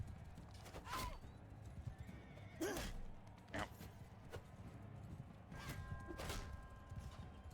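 A horse in the medieval battle game Mount & Blade II: Bannerlord whinnies several times amid clip-clopping hooves and combat noise, the neighs standing out sharply over a low, steady background.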